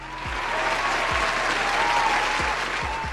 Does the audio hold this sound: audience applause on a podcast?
yes